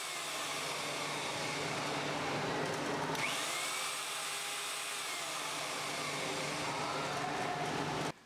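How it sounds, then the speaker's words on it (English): A power drill used with an impact reamer for enlarging holes in steel whines steadily and loudly, its pitch sliding gradually downward as it coasts after the trigger is let go, then cuts off near the end. "Just look at how long the drill takes to stop once the trigger is released."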